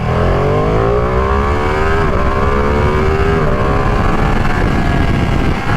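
A Ducati Panigale V2 motorcycle accelerates hard from first gear, its loud close engine note rising steeply in pitch with a brief shift dip before climbing again, continuous and alone without talk.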